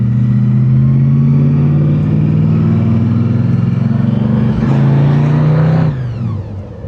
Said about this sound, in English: It's really cool with that blower sound.